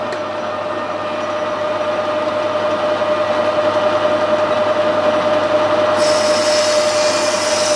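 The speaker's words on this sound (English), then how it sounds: "So we'll machine that length down," A lathe machining a bronze bush runs with a steady whine and broadband grinding hum throughout, its high hiss rising near the end; no speech.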